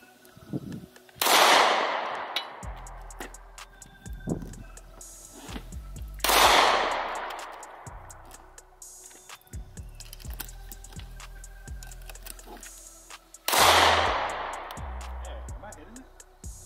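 Glock 19 pistol fired at a shooting range, three sharp loud gunshots spaced several seconds apart, each with a ringing decay, with people talking quietly between shots.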